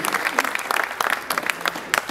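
An audience at the EPM Tigo Une 2016 cycling team presentation applauds the new team members with a strong burst of scattered, uneven claps and light crowd noise.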